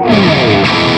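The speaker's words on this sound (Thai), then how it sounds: "เดี๋ยวข้ามมาฟังไปทางด้านเสียงแตกนะครับ" Distorted electric guitar from a Gibson Les Paul Goldie on the rear humbucker, loud and sustained with a held, slightly bending note under a thick overdriven chord, played alone with no talk.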